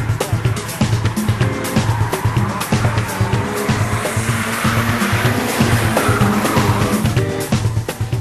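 A drifting race car slides sideways on opposite lock around an Irish circuit, its engine droning loudly under continuous tire squeal and skidding noise.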